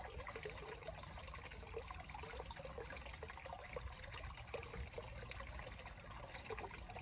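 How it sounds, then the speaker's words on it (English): Water trickles and splashes steadily in a cottage garden, a faint continuous babble with small droplet sounds and no voices. "listening to the sound of that water"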